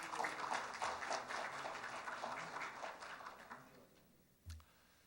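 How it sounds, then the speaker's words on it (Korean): Audience applause at a Korean software industry award ceremony welcomes a presenter to the stage, steady clapping that fades out after about four seconds, followed by a single thump. "여러분 큰 박수로 무대로 모시겠습니다"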